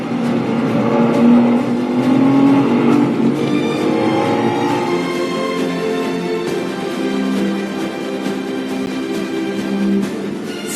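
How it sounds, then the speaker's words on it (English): A Ferrari LaFerrari supercar engine revs and accelerates, a loud, close, continuous roar with rising and falling pitch through gear changes, no talking. "The LaFerrari, the king of Italian supersports cars."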